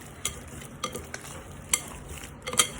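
Ground hamburger meat is worked and mixed by hand in a bowl, giving soft squelching and scraping sounds in irregular bursts with a few sharper taps, close up, with no talking.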